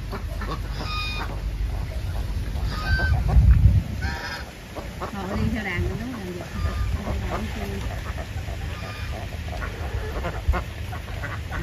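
Muscovy ducks honk and hiss in a farmyard flock, scattered raspy calls near and far over a noisy outdoor background, with voices talking faintly at times.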